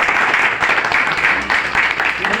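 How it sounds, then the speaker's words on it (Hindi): A seminar audience applauds steadily, dense clapping filling the room at an even level for the full stretch, with no pause. "KCG के लिए जोरदार तालियां"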